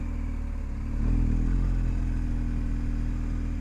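BMW 1250 GSA adventure motorcycle riding through deep sand on a high-altitude route from Pangong to Leh, its engine a steady close drone that swells briefly as the bike pushes on and slides.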